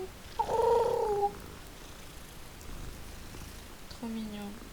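A cat in a video game set around Hogwarts purrs and gives a couple of short harmonic vocal bursts, with a quiet game backdrop and a voice talking nearby.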